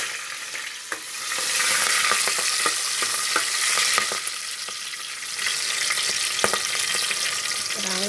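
Four slit green chilies fry for a fish curry in a clay pot over a wood fire, a close, steady hiss with scattered crackles and stirring clicks, no talk.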